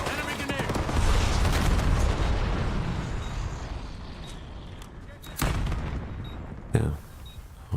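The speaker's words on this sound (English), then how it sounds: "Enemy sniper shooting. Enemy grenade." Sniper gunfire and a grenade blast in a first-person shooter video game, with a dense rumbling roar of explosions early on, then sharp close shots and bursts, loud and layered over game noise.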